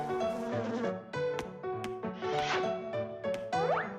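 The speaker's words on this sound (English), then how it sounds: "Here, little bee." A cartoon bee buzzes in wavering, tonal drones over a busy animated score with springy boings and knocks, the buzz rising and falling in pitch.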